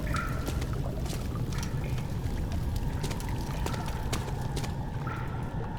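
Water flowing steadily in the dark stone setting of the Amnesia: The Dark Descent horror game, a continuous rushing wash with scattered drips and clicks on top, no talking.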